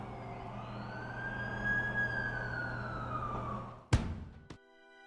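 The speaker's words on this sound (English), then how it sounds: "That's the ambulance I called." A video game ambulance siren wails in a slow rising-and-falling tone over engine hum, then cuts off with a couple of abrupt clunks near the end.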